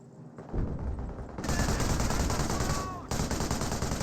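Vickers machine gun emplacement in Company of Heroes keeps up a dense, continuous burst of rapid fire, with overlapping battle gunfire in a loud, steady wall of sound.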